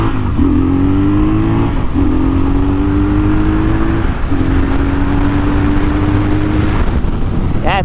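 A Triumph Scrambler 1200XE motorcycle accelerates hard through its gears from first, the close, loud engine tone rising in three sweeps with brief dips at each shift, under steady wind rush.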